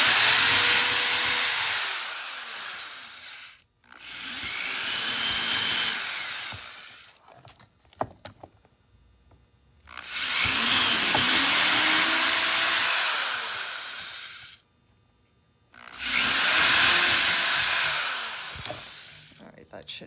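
A power drill bores holes in a wooden tray in three loud, sustained whirring bursts of several seconds each, separated by brief pauses with small clatters.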